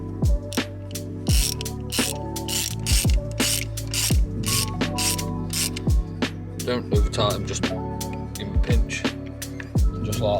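Rapid ratchet clicking drives a spark plug socket as plugs are fitted into a Corsa C engine, the bursts of ticking repeating in quick runs with brief pauses, close and steady, no one speaking.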